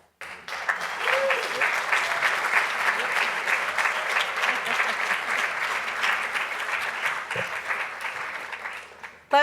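Audience applause for the finalists at a university startup competition event, a loud, dense, steady round of clapping that holds for about nine seconds, with a faint voice briefly audible near the start.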